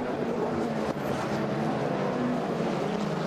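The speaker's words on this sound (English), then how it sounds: "look how quick this thing is in a straight line. Goes past Kevin Varney" Production GT race car at Ruapuna circuit speeding down the straight, a loud sustained engine roar filling the whole moment with a brief dip near the start as it passes close by.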